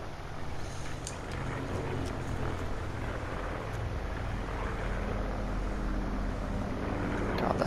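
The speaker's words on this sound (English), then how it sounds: "God, that helicopter is so loud." A loud, steady helicopter engine roar drones throughout in Call of Duty Blackout, with a rumbling low end like hovering nearby, continuous and unbroken.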